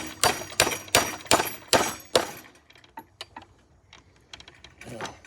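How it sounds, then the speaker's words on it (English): A hammer strikes metal while a washer is fitted during a yard sweeper upgrade: six loud, sharp, evenly spaced blows, then softer light taps and clinks of parts being handled, close by with no talk. "hammer."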